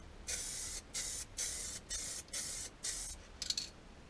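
Spray gun coating the lower fairing of a ZZR1400 motorcycle: six steady hissing bursts of about half a second each with short gaps, then a few quick sputtering puffs, close and clear with no voices.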